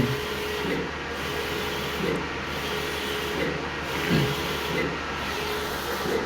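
A banner printing machine runs steadily with a continuous hissing, rumbling drone and a soft repeating swell about every second and a half as it works, with no voices over it.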